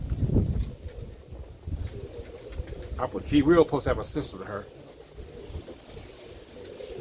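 A Mason roller pigeon hen gives a short, soft cooing burst up close while someone talks over and around it.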